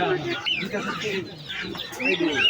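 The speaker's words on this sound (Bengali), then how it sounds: "দেশি মুরগি" Native (desi) chickens cluck repeatedly close by at a market, with overlapping short calls and a busy background of voices.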